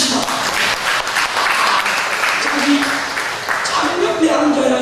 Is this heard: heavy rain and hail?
no